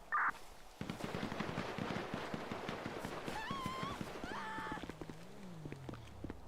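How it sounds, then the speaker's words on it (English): Gunshots fired at a motel in GTA 5, a rapid irregular series of sharp cracks and pops in quick succession, moderately distant, with tonal whines and sirens rising toward the end. "Shots fired."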